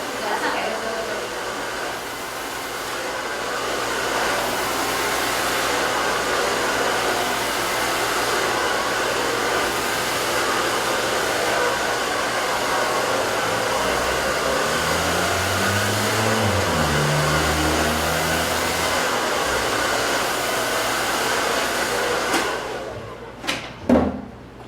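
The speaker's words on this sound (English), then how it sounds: "I can't really talk while the dryer is on because it would just be noisy" A hair dryer blows steadily and loudly for most of the clip, a constant rushing whoosh that cuts off abruptly near the end.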